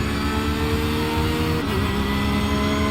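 Race car engines roar in iRacing during a VRS Sprint start with a Porsche alongside, a loud, continuous, buzzing engine drone at steady revs with no voices.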